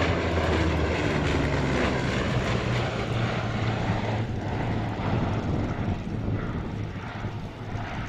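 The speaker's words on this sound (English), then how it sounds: "The Blenheim used extensively in the first couple of years of the Second World War." A Bristol Blenheim, a Second World War twin-engine aircraft, flies at a vintage airshow at Shuttleworth, with a loud, steady propeller-engine drone that holds throughout and eases slightly near the end.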